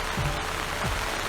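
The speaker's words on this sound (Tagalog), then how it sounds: "Katatapos ko lang mag-spray, ulan na naman." Rain falling steadily on a trellised melon farm during the wet season, a constant dense hiss of drops, with a couple of faint low thuds.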